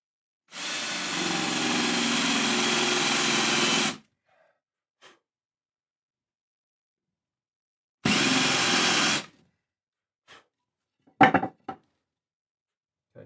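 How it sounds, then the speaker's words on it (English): A power drill with a small bit bores into guitar wood in a luthier's workshop, with one long loud burst, a shorter second burst and a few faint knocks in between. "Using a smaller drill bit now."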